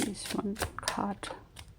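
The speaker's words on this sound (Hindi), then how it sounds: "last shuffle" Tarot cards being shuffled in quick rustling riffles, close and fairly quiet, under a voice speaking throughout.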